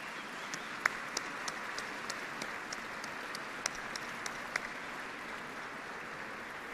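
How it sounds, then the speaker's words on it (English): Audience applause at Yokota Air Base during a speech by Vice President Pence, heard as steady, fairly distant crowd clapping with a few sharper individual claps standing out. "Give yourselves a round of applause."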